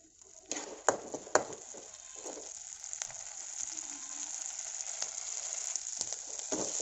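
Paste for paneer butter masala sizzles steadily as it is stirred in a hot pan, with a few sharp scraping clicks early on and a continuous frying hiss underneath, no talking.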